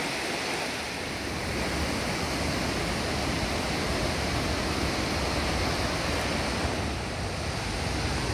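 A constant, heavy roar of rushing water fills everything, dense and unbroken: Virgin Falls, Tennessee, at flood stage.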